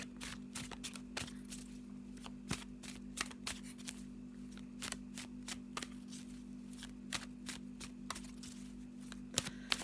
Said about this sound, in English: So let's have a shuffle and see what we've got here